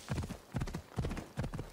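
Horse hooves clip-clop at a steady riding pace in Assassin's Creed Odyssey, four quick even beats of paired hoof strikes, close and clear with no talking.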